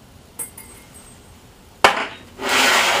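Raw sienna pigment rocks are ground by hand in a mortar and pestle: a few light taps, then a sharp knock, followed by a loud, steady gritty scraping.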